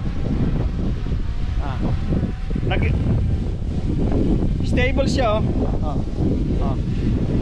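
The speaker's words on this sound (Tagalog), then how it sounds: "Ayan, mahangin sa amin eh." Gusty wind buffets an outdoor microphone with a steady low roar throughout, while a person talks over it during a DJI Mini 4 Pro drone flight.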